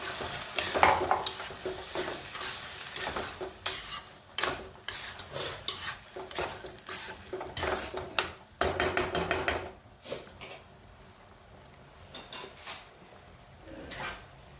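Boiled pigeon pea usal goes into a pan and is stirred, bringing irregular scraping and clanking of a spoon against the metal pan over a soft sizzle, close up with pauses between bursts.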